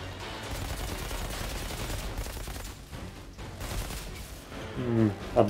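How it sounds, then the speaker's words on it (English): Dense, overlapping gunfire fills a big firefight in the shooter game Outriders, a continuous rattle of shots from several weapons with a heavier impact near the end. "That's a big gunfight."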